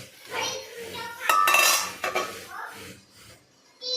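A metal steamer lid is lifted off to check jowar dhokla, giving close metallic scrapes and a bright clang in a home kitchen, followed by a few softer clinks and a brief rattle with no talk.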